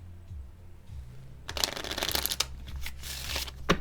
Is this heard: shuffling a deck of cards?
yes